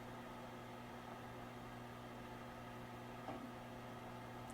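A microwave oven runs while heating a bar of Ivory soap on a plate, a faint steady hum with a constant low drone throughout.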